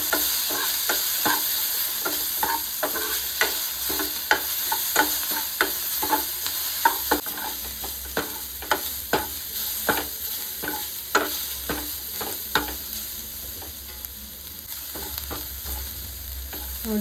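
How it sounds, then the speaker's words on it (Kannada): Masala for a leg soup stir-fried in a hot pan, with steady sizzling and frying under repeated scraping strokes of a spatula at an even rhythm, close and fairly loud, with no voices. "ಇದಿಷ್ಟನ್ನು ನೀಟಾಗಿ ಫ್ರೈ ಮಾಡ್ಕೊಳ್ಳೋಣ."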